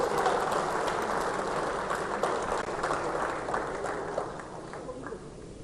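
Clapping from a crowd at a political rally in Jaipur, steady, dense and moderately loud throughout, with no break in the sound.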